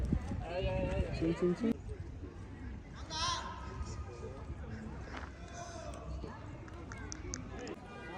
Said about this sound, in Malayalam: മൂന്ന് കുതിരയുണ്ട് ഇവിടെ